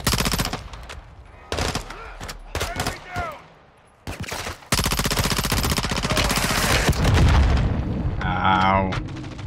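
SMG gunfire in the Call of Duty: Modern Warfare 2 campaign, with short bursts early on and then a long, loud sustained volley of rapid shots, while someone talks between and over the shooting.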